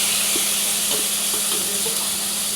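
Onion, ginger and tomato frying in a pan, a continuous loud sizzling hiss with a few soft scraping stirs, close and alone without talk.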